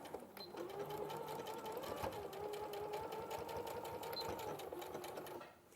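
A sewing machine runs steadily for several seconds stitching a fabric pocket seam with 1 cm allowance, a continuous close mechanical whir with a fast, even needle rhythm before slowing to a stop at the end.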